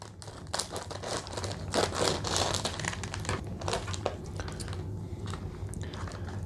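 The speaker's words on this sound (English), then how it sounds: "I'm just gonna cut it up right along the seam." Crinkly chip bag being cut open along its heat-sealed seam, a close, steady crackling and crinkling of foil plastic with sharper snips throughout, no voices.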